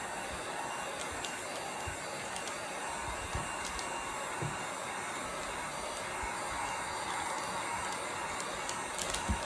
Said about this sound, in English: Now let's try with the heat gun.